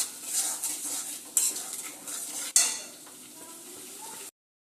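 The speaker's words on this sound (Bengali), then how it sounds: "এবার মশলাটা খুব ভালো করে কষিয়ে নেব" A spoon scrapes and clinks against a pan as spice paste is stirred and fried, with a soft sizzle underneath and a few sharp metallic knocks before it cuts off.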